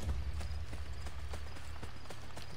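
Horse hooves clip-clop in a steady, quick rhythm in Assassin's Creed Brotherhood, close and fairly loud over a low rumbling game backdrop.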